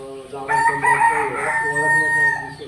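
A country rooster on a poultry farm crows loudly and close, one long drawn-out call rising and holding before trailing off.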